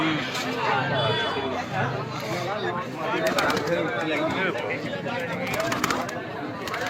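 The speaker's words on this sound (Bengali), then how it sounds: "বাচ্চা পায়রা" Young pigeons coo and flutter around a loft amid a steady background of chatter, their soft calls mixed under people talking nearby.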